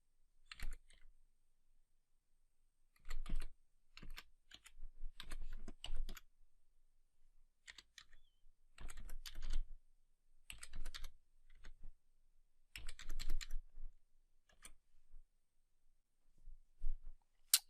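Keys clatter on a computer keyboard as an Azure CLI command is typed to connect to a virtual machine, coming in close quick bursts separated by short silent pauses.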